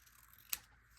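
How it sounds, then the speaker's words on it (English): A single quick, crisp snip of scissors through paper, close and brief, in an otherwise quiet room. "And I'll just use my scissors."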